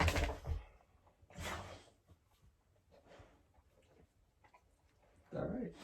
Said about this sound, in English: I'm waiting for my dogs to stop fucking fighting so that I can still record.